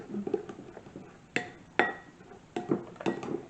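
Banana bread French toast batter stirred in a bowl without a wooden spoon: irregular clinks and taps of a utensil against the bowl, several sharper knocks among quieter scraping, no talking.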